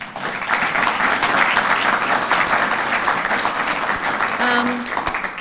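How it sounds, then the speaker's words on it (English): Sustained audience applause at a photography talk on the American landscape, a dense even roar of clapping with a faint voice near the end. "let's give some applause"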